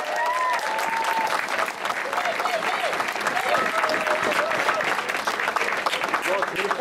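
Crowd applause at a Tour de Romandie cycling podium ceremony, a sustained loud clapping roar with a few cheers and an announcer's voice faintly over the top.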